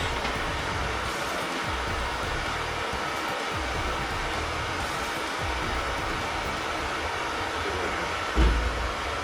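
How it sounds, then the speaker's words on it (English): A torch heats a steel bed panel on a 1949 Jeep Willys pickup, giving a steady, rushing roar of hiss that holds throughout, with a brief low bump near the end. "Heat this up, cool it down. So I can get it to shrink."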